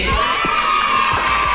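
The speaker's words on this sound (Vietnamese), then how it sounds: "Xin chúc mừng vỗ tay đồng nhiên." Studio audience on the Vietnamese TV quiz show Nhanh Như Chớp cheering and shouting in a loud, continuous burst of crowd noise with excited voices throughout.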